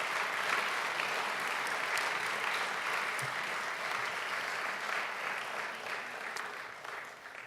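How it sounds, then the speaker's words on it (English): Warm, sustained applause from the crowd at an Albanian Independence Day celebration in New York City Hall, honoring serving NYPD officers, steady clapping that gradually thins toward the end. "Let's give them a round of applause"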